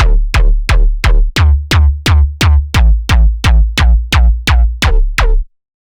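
Plucky neurobass patch from the Serum synth with OTT-style compression: about fourteen punchy, evenly spaced bass stabs, loud and alone, each with a bright attack and quick decay before stopping abruptly.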